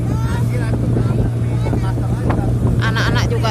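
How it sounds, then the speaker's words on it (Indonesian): Strong wind buffets the microphone during a cloudy, drizzly morning ride to school by boat, with a constant engine drone and loud rushing gusts. Voices and chatter can be heard beneath the wind. "Angin pun cukup kuat."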